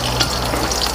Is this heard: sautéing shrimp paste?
yes